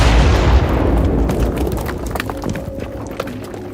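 A massive explosion sound effect opens loud with a deep, rumbling blast, then decays into a fading rumble with scattered debris-like crackles, alone with no talking.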